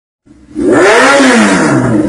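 A car engine revs hard and loud while a grandmother works the clutch, climbing from a low idle into a sustained roar that rises and dips in pitch, with excited voices cheering faintly underneath.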